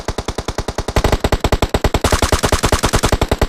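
Rapid automatic gunfire in a video game, a loud, close, evenly spaced stream of shots running continuously without pause.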